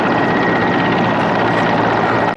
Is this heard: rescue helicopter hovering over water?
yes